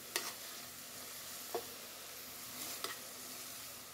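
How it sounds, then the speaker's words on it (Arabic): Onion and bell pepper fry quietly in a pan with a soft continuous sizzle, broken by a few faint scraping stirs of a utensil. "من بعد ما تشحرت لنا البصله والفلفله"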